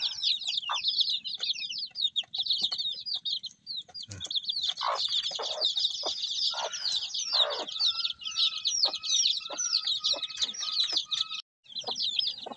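A brood of young chicks, four days old, peeps constantly in high, busy chirps, with a few lower clucks and scattered knocks mixed in, close and continuous.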